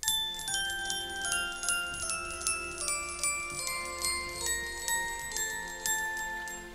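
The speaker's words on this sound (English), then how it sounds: "that bell sound is really, really effective" A synthesized glockenspiel-style bell patch plays a melody with clear, evenly spaced struck notes ringing over a steady accompaniment, bright and alone with no voices.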